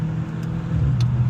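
Mercedes-AMG E63s V8 in a four-door sedan, a steady low engine drone with a slight rise in pitch, near and moderately loud.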